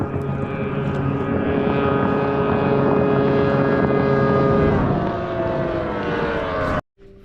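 A T850 race boat runs on the water with a loud, steady engine drone and strong tonal harmonics that shift slightly in pitch. It continues unbroken until a brief dropout near the end.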